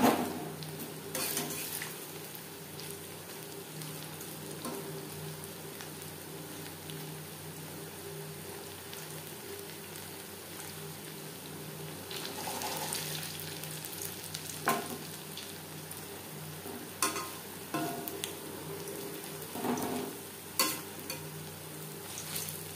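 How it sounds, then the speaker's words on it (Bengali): Paneer pakoras deep-frying batch after batch in hot oil, a continuous soft sizzle broken by occasional clinks and scrapes of a utensil against the pan and louder bubbling bursts as pieces go in. "সেম প্রসেসে প্রত্যেকটা ব্যাচের পনির পকোড়া ভেজে নেব।"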